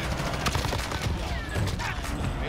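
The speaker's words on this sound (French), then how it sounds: "J'ai tiré en même temps." Rapid gunfire bursts in Call of Duty Modern Warfare crackle in quick succession under a player's voice, fairly quiet in the mix.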